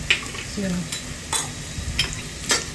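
Onion sautéing in oil in a pan, a moderate frying sizzle broken by a few sharp stirring scrapes and clicks, close and without talking.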